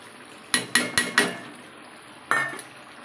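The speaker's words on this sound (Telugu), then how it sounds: "ఇప్పుడు పచ్చిమిరపకాయలు వేస్తున్నాను" Green chillies tossed into a pan of frying country chicken give a quick run of four clattering knocks, then a pause and two more, over a steady background sizzle, close and without talk.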